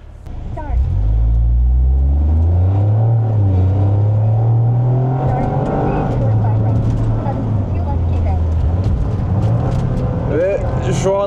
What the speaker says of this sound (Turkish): Şu an bu araba pilotun hiçbir kontrol olmadan kendi kendine bu pistin içinde gidiyor.